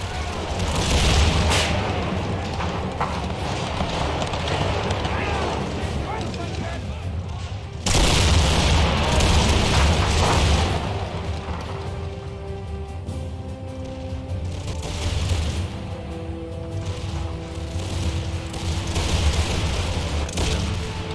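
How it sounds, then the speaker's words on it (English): Soldiers firing muskets through building windows in the strategy game Empire 2, with dense crackling volleys and booms over a steady battle roar and someone talking over the din. "Guys shooting through the windows."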